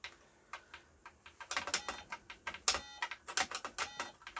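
Keys clacking on an Acorn Electron home computer keyboard during a game, quiet at first and then quickening into irregular bursts of sharp, close clicks with short pauses between runs.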